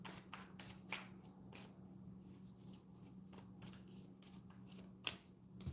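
Tarot cards shuffled by hand, rapid papery riffles and flicks repeating in quick bursts with a sharper snap near the end, close and quiet, no talk.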